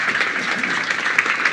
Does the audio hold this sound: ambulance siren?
no